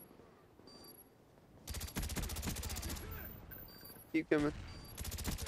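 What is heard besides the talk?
gunfire in video game Call of Duty: Black Ops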